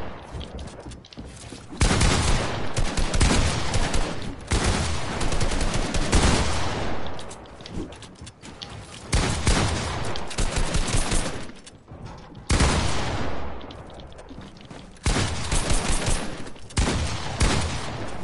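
Dense, rapid gunfire from the video game Fortnite, with bursts of automatic fire and repeated shots rolling across the whole stretch, loud and continuous with brief dips between volleys.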